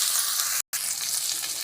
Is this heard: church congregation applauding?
no